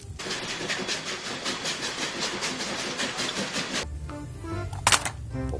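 A toy locomotive train runs with a steady rhythmic clatter and whirring for about four seconds, then quiets to lighter rustling and a couple of brief sharp clicks near the end.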